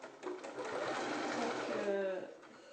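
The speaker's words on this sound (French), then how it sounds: "on pense bien à faire un point d'arrêt au début et à la fin" A domestic sewing machine runs steadily through cotton mask fabric, a close continuous mechanical whirr with a short stop-and-restart near the end consistent with a backstitch at the seam edge.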